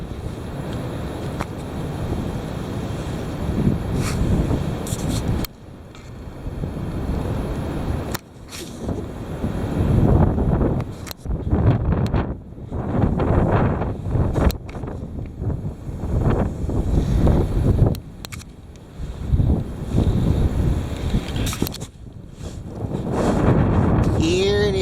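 Heavy wind roars steadily and loudly, with rumbling gusts buffeting the microphone and brief dips between surges.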